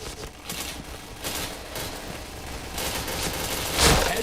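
Rapid video-game gunfire rattles in dense, overlapping bursts for a few seconds, loud and close, with a sharper, louder shot near the end.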